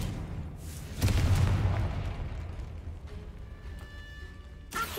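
A Confringo blasting spell explodes in a Harry Potter video game, one loud booming burst that rumbles and fades over a few seconds, followed by a sharper crack near the end.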